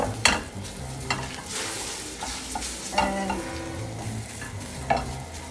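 Eggs for an omelet are stirred in a sizzling pan, with repeated scraping strokes of a utensil every second or so over a steady frying hiss.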